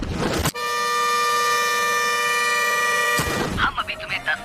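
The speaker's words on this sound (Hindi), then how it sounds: "अगर तुम सब बाहर जाकर अपनी कार का हॉर्न लगातार बजाते हो" Car horns blare together in one long, loud, unbroken honk lasting several seconds, with crowd noise and voices before and after it.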